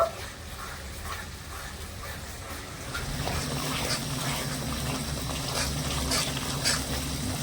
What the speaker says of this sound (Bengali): ফোড়নে দিয়ে দিচ্ছি দুটো তেজপাতা আর দিয়ে দিচ্ছি বেটে রাখা মশলা এবারে মশলাটা আমি খুব সুন্দর করে একটু কষিয়ে নেব